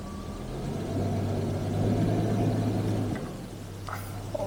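A 1985 Jaguar XJS, long abandoned, idles steadily with a low, even engine drone, then a slight shift in tone near the end as it is put into gear; no one speaks.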